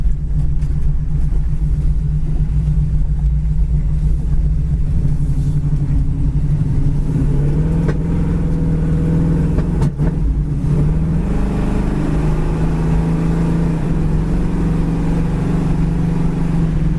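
Orange 1970 Chevrolet Camaro accelerating along a damp road on a cool day, its engine a loud, steady rumbling roar that climbs in pitch as speed builds, with no talking.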